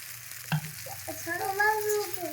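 Ridge gourd slices sizzle and fry in a pan while a spatula scrapes and turns them, producing a sharp clatter followed by a steady close sizzle with faint background noise.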